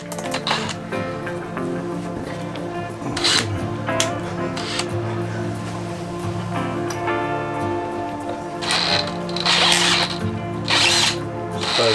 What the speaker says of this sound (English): run a drill through that now